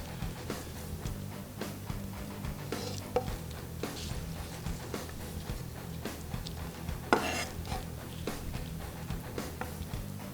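Garlic cloves smashed with a kitchen knife while making creamy chicken pasta: a few sharp, close knocks and clatters on a board, one especially loud hit near the end, over steady background music.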